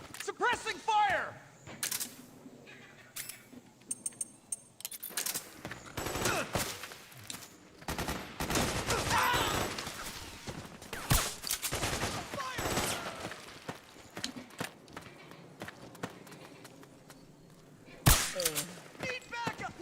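Sustained gunfire in a Metal Gear Solid 4 firefight, with dense bursts of automatic fire and scattered single shots over nearly twenty seconds, loud and close at times, with soldiers' voices shouting through it.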